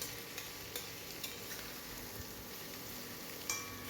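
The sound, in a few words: stirring soybean chunks frying in oil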